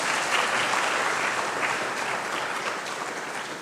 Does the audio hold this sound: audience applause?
yes